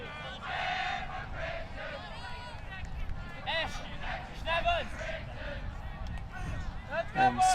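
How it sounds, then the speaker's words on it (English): Great Britain supporters chanting and cheering as a crowd at an Australia vs Great Britain match, a rough rhythmic mass of voices heard from a distance, with a commentator's voice over it. "And chanting from GB."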